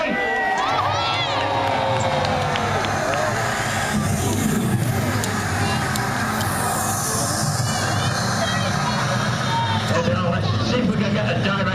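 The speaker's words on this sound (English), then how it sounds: "Give them a cheer, 1, 2, 3." Outdoor spectators at the Peasholm Park naval warfare show in Scarborough cheer in a loud, sustained roar, with children's shouts and a steady background rumble mixed in and voices carrying across the lake.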